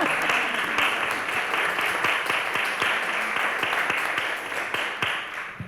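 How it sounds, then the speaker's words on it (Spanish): Sustained applause from an audience at the launch of a national conference on Colombia's 2021 social uprising, dense steady clapping with sharper individual claps standing out, continuous throughout. "aplaudamos"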